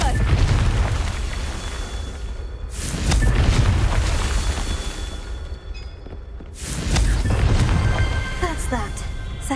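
Confringo spell explosions in the Hogwarts Legacy video game: two loud, deep blasts a few seconds apart, each followed by a long roaring, crackling rumble.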